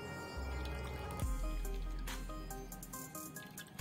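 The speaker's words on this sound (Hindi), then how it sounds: "बाकी बचे नारियल का भी मैंने पेस्ट बनाकर निचोड़ लिया है, अब इसको भी अच्छे से निचोड़ लेंगे।" Liquid squeezed by hand from ground coconut paste while making homemade coconut oil: close, wet squishing and dripping, with a steady low hum underneath and a few brighter splashes toward the end.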